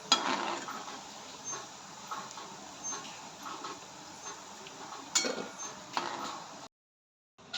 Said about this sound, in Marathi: आपण आणखी थोडा वेळ याला तळण्यासाठी ठेवणार आहोत जेणेकरून आपले वडे क्रिस्पी बनतील